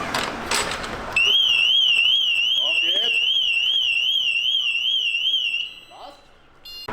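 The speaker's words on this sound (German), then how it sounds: "Theoretisch müsste sie schon anspringen, die Alarmanlage." A loud motorcycle alarm wails in a rapid warbling electronic tone, rising suddenly and sounding steadily for several seconds before cutting off.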